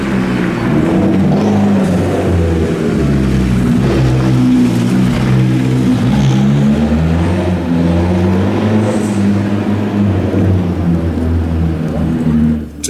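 A turbocharged rear-wheel-drive Merkur rally car drives past on a slippery rally stage, its engine droning steadily with wavering pitch as it works through gears, loud and fairly close.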